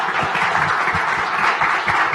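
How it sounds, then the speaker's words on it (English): Audience applause for a discussion panel at the close of a talk on free speech, video games and censorship, a steady dense clapping from a crowd sustained throughout. "big round of applause for everybody on the panel"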